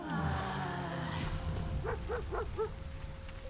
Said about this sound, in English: Oh, hey, it's the dog.